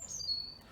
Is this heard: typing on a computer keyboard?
no